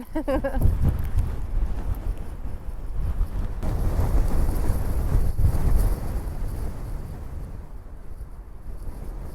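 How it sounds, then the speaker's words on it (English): Loud, steady wind buffets the microphone during an outdoor run in heavy rain, a constant low rumble, rain and gusts blending into a continuous roar throughout. "It started raining pretty hard at the end, and this area was really, really windy."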